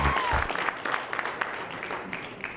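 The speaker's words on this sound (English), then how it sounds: "Okay, give you a round of applause." Scattered applause from a seminar audience at a trading talk, moderately faint clapping that thins and trails off after a brief burst of other noise at the start.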